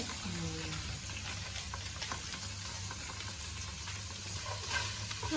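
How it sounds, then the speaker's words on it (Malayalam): Spices with garam masala fry in hot oil for a crab roast, giving a steady, even sizzle and crackle that holds at a moderate level throughout, with faint stirring. "നമ്മളെല്ലാം കൂടി ഇങ്ങനെ എണ്ണയിലിട്ട് ഇങ്ങനെ ഷൂ ഷൂ ആക്കി എടുക്കുവാണ്"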